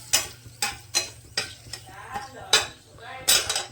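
Bay leaves and dried red chillies sizzle in hot mustard oil in a pan, a steady crackling hiss broken by repeated clinks and scrapes of a spatula against the metal.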